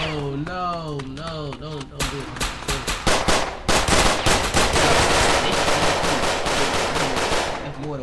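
Rapid bursts of automatic gunfire from several guns in a video game set in the South Bronx, with a Hi-Point pistol among them. Loud, overlapping volleys follow a stretch of talking and keep going dense to the end.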